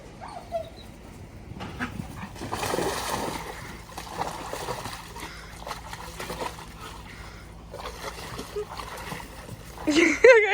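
Dogs splash and play in a small outdoor pool, with intermittent sloshing water and occasional whimpers and barks at moderate distance, while a person talks over the activity.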